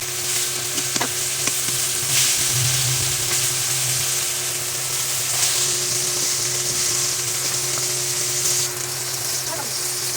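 Salmon frying in a pan, a steady close sizzle with crackling spits and faint stirring or scraping, continuous and even with no talk.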